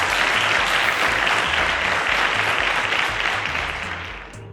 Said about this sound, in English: A round of applause to Onyedikachi.